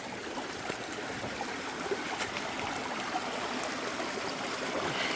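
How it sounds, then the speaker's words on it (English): Water rushes steadily through a Proline sluice box lined with Dream Mat while prospecting for gold outdoors, a constant close-up gurgling stream with no breaks and no talking. "Running my old sluice here. It's a Proline box with Dream Mat in it."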